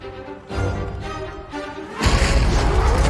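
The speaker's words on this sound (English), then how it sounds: "Hulk smashes through and knocks him down" Hulk crashes through a door in a Loki trailer, a loud booming smash that builds from a low rumble into a heavy, dense impact near the end, set against a swelling dramatic score.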